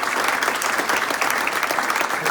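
Audience applause fills a Rotary Club veterans breakfast in Haverhill: dense, steady clapping from many hands, close and loud, sustained throughout without a break.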